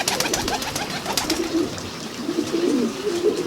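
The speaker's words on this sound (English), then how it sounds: "Buttonhead tiplet, a funky looking pigeon" A buttonhead tiplet pigeon coos steadily and close by, with a soft, rolling, repeated call over light rustling background noise.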